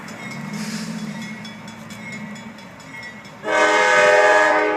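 A train rumbles past with rhythmic rail clatter, then a loud sustained horn blast sounds close by and holds to the end.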